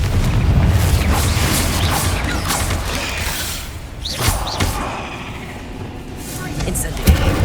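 Booming magical blasts from the Confringo spell in Hogwarts Legacy, with whooshing bursts over a steady game background and a voice speaking throughout.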